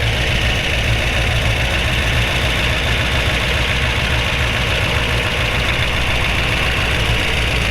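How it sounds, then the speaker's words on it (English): A 1961 Chevrolet Impala's 348 Tri-Power V8 with solid lifters and a correct-cut cam idles under the open hood, a loud, steady rumble with a fine rapid ticking running evenly throughout, no talking. "we thought we'd cover underneath the hood running so you can hear the solid lifters with the correct cut cam."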